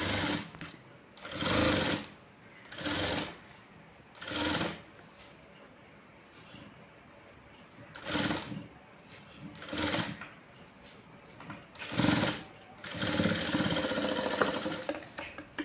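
A sewing machine stitching a blouse runs in repeated short bursts of whirring, separated by brief pauses, loud and close, with a longer continuous run at the end.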